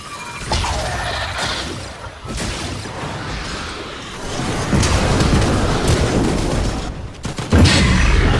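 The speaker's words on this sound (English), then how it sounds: "That guy is shooting grenades sometimes or whatever." Grenades fired and exploding during a Fortnite match: a dense run of crashing blasts and gunfire-like bangs, loud and continuous over about eight seconds, ending in a sharper burst.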